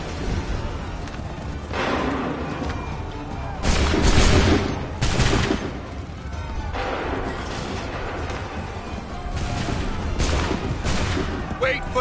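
Volleys of musket gunfire in the Assassin's Creed 3 video game, loud booming bursts over several seconds with a rolling crackle between them, while commanders' voices shout orders.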